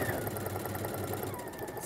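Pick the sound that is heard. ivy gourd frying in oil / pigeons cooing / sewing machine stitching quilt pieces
sewing machine stitching quilt pieces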